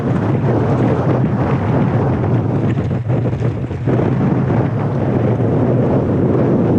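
Strong wind buffets a non-permeable canopy set up at a MotoGP track, a loud, continuous roar with gusting rumble and flapping pressure throughout, with no talking.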